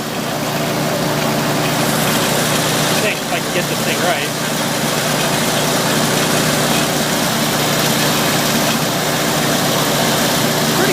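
An Onan generator engine runs steadily at idle, a continuous low droning hum that stays even throughout, with someone talking briefly over it partway through.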